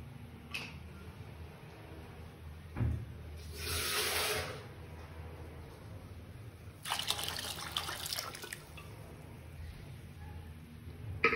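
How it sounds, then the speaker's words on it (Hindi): Water trickles and splashes briefly in two short bursts into a pot of sambhar, with a faint clunk between them, over a quiet background hum. "एक गिलास पानी मैंने इसमें डाल दिया है।"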